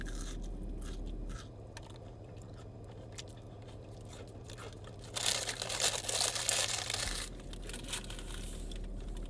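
Crunchy fried snack from a Jack in the Box munchies box is bitten and chewed up close, with soft crinkling wrapper sounds and a louder burst of crunching chews in the middle.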